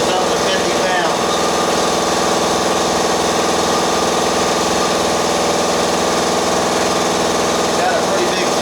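A shop air compressor with a 30-gallon tank keeps running, its motor giving a loud, constant, vibrating drone, with a voice faintly present behind it.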